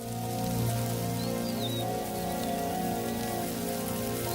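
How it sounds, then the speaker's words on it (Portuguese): Rain falling steadily in the Zambian wilderness, the first drops of the season soaking the soil, a dense continuous patter with a faint bird call rising briefly above it. "O solo amolece com as primeiras gotas de chuva"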